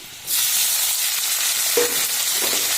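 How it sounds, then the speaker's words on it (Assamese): Mutton pieces dropped into hot oil with five-spice for a mutton pickle, an abrupt loud sizzle bursting in after a quiet start and holding steady, with a couple of small clinks, no voices. "তাৰপিছত মই মাংসখিনি ইয়াত দি দিম।"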